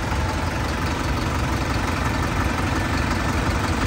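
A 3630 tractor engine runs in a farm field with a dense, steady low rumbling drone that stays even throughout, near and fairly loud, and no one speaks over it.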